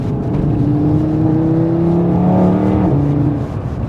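An Audi RS3 with a dual-clutch gearbox accelerates into a turn, its engine droning loud and steady with a rising then falling tone and a brief dip near the end, heard from inside.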